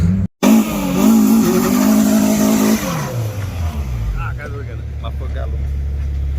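Honda Civic doing a burnout: a loud, close engine roar holding high revs with tire noise, then dropping away to a low idle rumble, with people talking over it.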